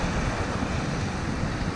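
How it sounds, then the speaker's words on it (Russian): Surf breaks on the Black Sea shore at Kacha near Sevastopol, Crimea, at sunset as the tide starts to ebb. It comes across as a continuous loud wash of waves with wind buffeting the microphone, and nobody speaks. "Прибой."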